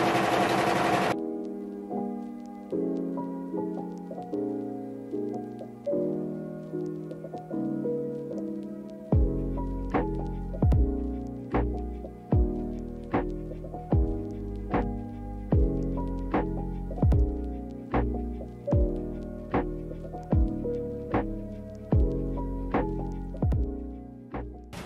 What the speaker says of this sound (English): I am going to be serging this one with the red thread